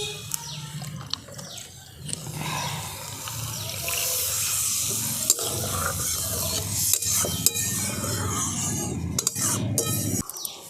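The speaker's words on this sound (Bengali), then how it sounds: "এরপর আমি এটাতে জল দিয়ে দেবো।" Water is poured into sizzling mustard pabda fish masala in a pan, and the close, loud hiss and bubbling swell after a quieter start, with stirring clatter and a few sharp clicks.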